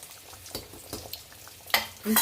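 Curry leaves drop into hot oil while fish curry cooks, bursting into sharp crackling sizzles over a quiet background of light frying and stirring.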